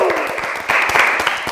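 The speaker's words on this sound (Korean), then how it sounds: "박수를 주는 거지" Brief applause during a game show episode, with several people clapping quickly over a bright tonal background sound.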